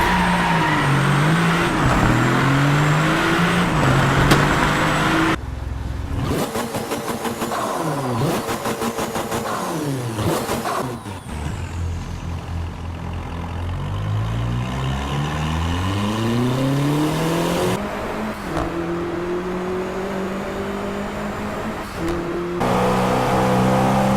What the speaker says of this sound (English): The car sound samples are great, and little details like blow-off valves, turbo spools, transmission winds have all been taken into account.